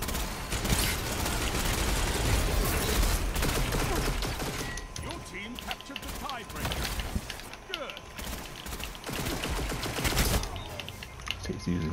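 Rapid gunfire bursts from the video game Destiny, dense volleys of shots and mechanical clatter crowding together at close range, with voices talking intermittently over the fighting.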